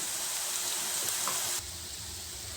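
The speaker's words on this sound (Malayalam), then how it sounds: "ഈ ഉള്ളിയെ നമുക്ക് ഗോൾഡൻ ബ്രൗൺ ആവുന്ന വരെ വറുത്തെടുക്കണം." Onions for Thalassery chicken dum biryani fry in a pan toward golden brown, giving a constant bright sizzle that drops to a quieter, lower crackle partway through, close and alone.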